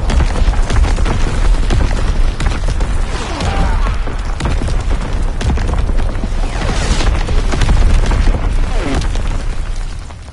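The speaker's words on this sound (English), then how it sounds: "Dropping Fritz X bomb." A Fritz X bomb exploding in a PS4 combat game, with heavy, continuous booming blasts and rumbling bursts filling the whole stretch, loud and close, fading slightly at the end.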